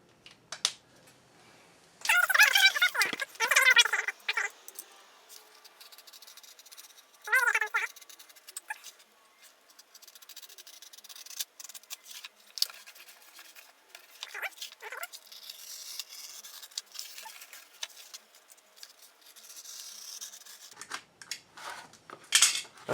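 Scissors snip through a paper template for WR250E front motor mount braces, with bursts of cutting and paper rustle that come and go, close and fairly quiet, with no talking.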